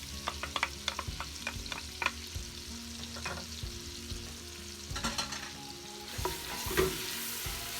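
Chopped onion sizzles steadily in melted butter in a pot for she-crab soup, with sharp scraping clicks from a spoon stirring; close and fairly quiet, no talking.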